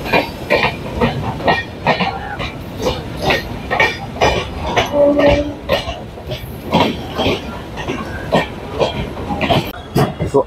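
Local train running on rails on the Sealdah to Howrah route, a steady rumble with repeated wheel clatter throughout, with occasional coughs and faint voices in the carriage.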